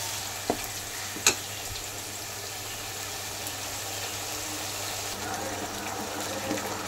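Spice paste and sour yogurt sizzle and fry in a pan as they are stirred, a soft, steady hiss broken by a couple of sharp clinks of the spoon against the pan.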